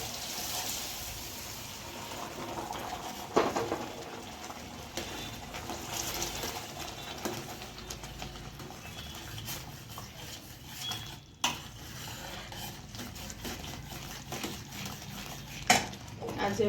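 Soft scraping and clinking of a spoon stirring semolina sheera in a pan as milk is poured in, quiet and steady with occasional louder knocks against the pan.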